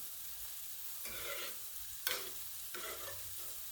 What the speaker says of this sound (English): Go ahead and stir.